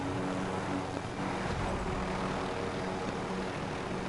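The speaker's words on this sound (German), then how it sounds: "Cool, haben wir 2 Helis." A helicopter in the video game Call of Duty Warzone drones steadily throughout, a constant loud rotor and engine hum with no talk.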